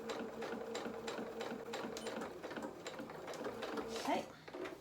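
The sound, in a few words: sewing machine stitching and reversing at the edge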